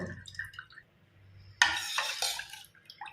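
Ragi milk strained through a cloth or sieve into a vessel, with a sudden run of splashing, dripping liquid and light clatter after a quiet start, close and fairly loud.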